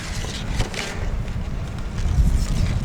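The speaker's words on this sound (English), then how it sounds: "Oh, the wind." Outdoor wind gusts buffet the microphone with heavy low rumble and hiss, rising stronger toward the end. The setting is a wet day with rain starting.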